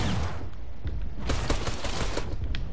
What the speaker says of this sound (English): I'm only using my shotgun because of how much ammo I have for it.